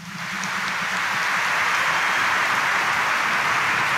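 A church congregation applauds loudly at a Catholic Mass in Quiapo Church, the clapping swelling in quickly and holding as a dense, even wash with no voices over it.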